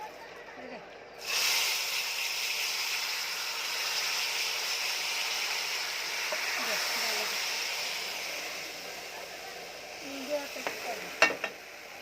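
Hot oil with dried chillies is poured over taro greens in a home kitchen, setting off a sudden loud, sustained sizzle that hisses on steadily, with a few clinks and crackles near the end.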